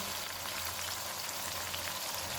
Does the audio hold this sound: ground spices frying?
yes